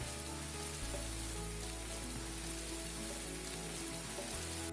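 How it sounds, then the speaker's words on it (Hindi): Heavy rain with hail pounds down in a village in Bhiwani, a steady, faint, uniform hiss running throughout with a low electrical hum beneath it. "मैंने आज पहली बार गांव में इतने ओले पड़ते देखे हैं।"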